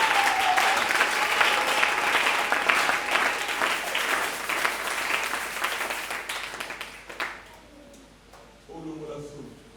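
A church congregation claps and applauds at a sermon, a loud sustained roar of hands that gradually thins and fades, with a preacher's voice speaking over it toward the end.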